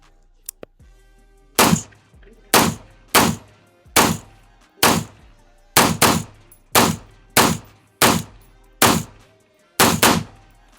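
A PSA rifle fired at an outdoor shooting range, eleven loud, sharp reports spaced about a second apart, each with a short echoing tail, after a couple of faint clicks at the start.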